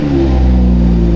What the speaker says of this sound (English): And it's so loud with the M Performance exhaust.